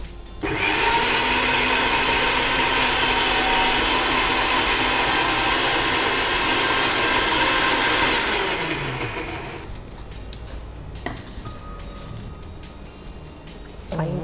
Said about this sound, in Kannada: ಇನ್ನು ಸ್ವಲ್ಪ ಗ್ರೈಂಡ್ ಮಾಡುವ.